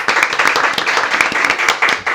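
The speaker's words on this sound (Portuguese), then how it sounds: "ele merece as palmas aí pra provar que é verdade" Applause for a guest on a Portuguese-language podcast: dense, steady clapping from several pairs of hands, fairly close and continuous, with no talk over it.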